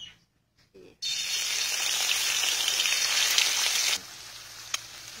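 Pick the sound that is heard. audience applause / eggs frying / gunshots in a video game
eggs frying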